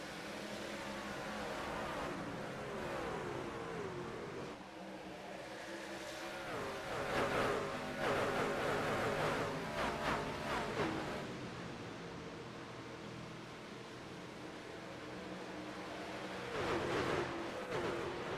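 Race truck engines in the iRacing game at a Daytona truck series event: a continuous roar of several engines droning and revving, with surges of louder passes and rising, falling pitch over a broad noisy wash, no talking.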